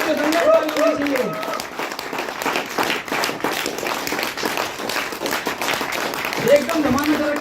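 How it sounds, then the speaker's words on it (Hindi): Audience clapping at a community celebration event in Shimla, a crowd's applause running throughout with a voice speaking over it at the start and end. "दमदार ताली होनी चाहिए।"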